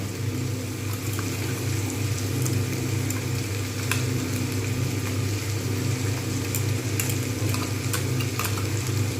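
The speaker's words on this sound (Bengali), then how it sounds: "কাঁচা লঙ্কা আর পোস্ত আমি বেটে রেখেছিলাম, সেইটা দিয়ে দেবো" Potatoes and beans frying in a pan as a ground poppy seed and green chili paste goes in, a continuous loud sizzle with a low bubbling rumble and occasional small clicks, no talking.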